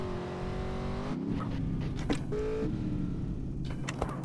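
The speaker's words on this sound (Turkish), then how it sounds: "Allah'tan hızlı araba var." A fast car's engine in GTA San Andreas roars steadily, its pitch climbing and shifting between gears, with short sharp bursts and a squeal of tires cutting through the drone.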